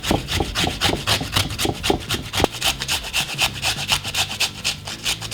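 A radish is rubbed quickly back and forth across a grater, making close, rhythmic rasping strokes in a steady scratchy pattern with no voices.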